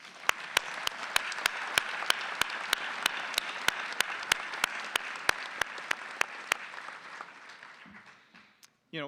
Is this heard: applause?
yes